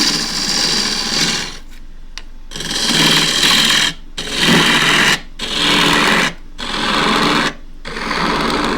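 A wood lathe turning timber spins with a loud rushing, rasping whir as a tool cuts, pulsing in repeated passes separated by short pauses.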